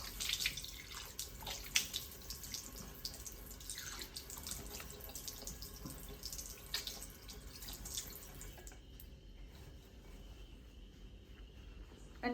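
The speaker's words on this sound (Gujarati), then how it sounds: "અને ત્યાર પછી ચહેરો ધોઈ લેવાનો છે." Face washed with water at a sink after applying face wash, a soft continuous running-tap splash with faint dripping, quiet and close, with a faint insect chirp in the background and no speech.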